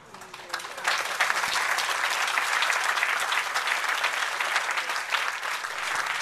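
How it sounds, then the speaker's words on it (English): Conference audience applauding a speech on San Gabriel Mountains wilderness protection: dense, sustained clapping rises quickly after a quiet start and carries on at a steady, full level, close and lively, with no speech over it. "As demonstrated by your applause"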